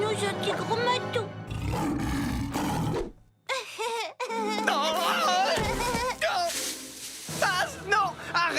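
Cartoon lion roaring in a children's animated show, loud growling roars repeating over about eight seconds, mixed with animated character voices and music.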